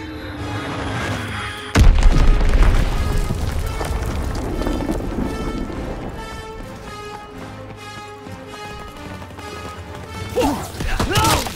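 Bombing-run explosions in the Call of Duty WW2 multiplayer match: a sudden loud boom lands near two seconds in, then a long rumbling wash of blasts and debris that settles before more impacts flare at the end.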